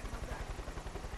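Rapid rhythmic thudding of helicopter rotor blades in the video game Far Cry 5, steady and fairly loud, with a whooshing engine noise underneath.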